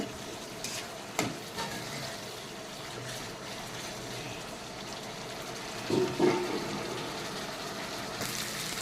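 Spice paste for a katla fish head curry fries in oil in a pan, giving a low steady sizzle broken by occasional clinks and scraping stirs, close and fairly quiet.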